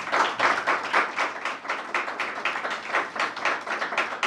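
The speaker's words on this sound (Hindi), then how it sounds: "तो हम चाहेंगे कि आप सब लोग एक ज़ोरदार ताली से इनका स्वागत किया" An audience at an academy event gives applause, a brisk burst of many hands clapping together, close and fairly loud, with no speech over it.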